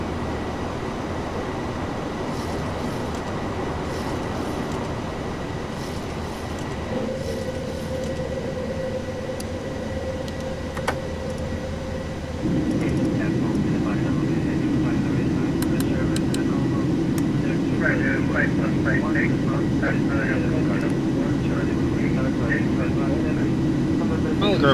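Jet airliner engines in a PMDG 737NGX flight simulator spool up and roar steadily through the takeoff roll, the broadband rumble stepping louder midway and holding, with faint cockpit sounds scattered above.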